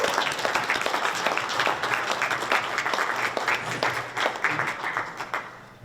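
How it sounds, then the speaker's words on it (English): Audience at an American Polish Cultural Society award ceremony applauding an honoree with a continuous, even wash of many hands clapping, sustained throughout. "Let's give her a big applause."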